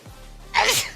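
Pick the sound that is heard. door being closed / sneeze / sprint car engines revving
sneeze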